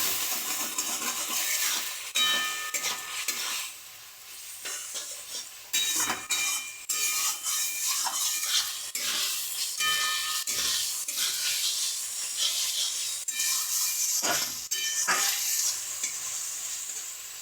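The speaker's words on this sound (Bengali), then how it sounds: "এরপর আমি ভালো করে কষাতে থাকবো।" Spice paste (masala) stir-fried in a pan with a splash of spice-rinsing water, giving a steady close sizzle broken by repeated scraping and stirring strokes of a spoon against the pan, with occasional metallic clinks.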